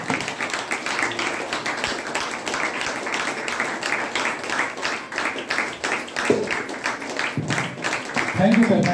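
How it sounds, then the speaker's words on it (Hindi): An audience at a DXN business event applauds, a continuous patter of many hands clapping throughout while voices speak over it near the end. "उनके लिए जोरदार तालियां।"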